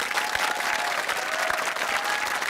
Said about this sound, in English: Ladies and gentlemen, one last round of applause.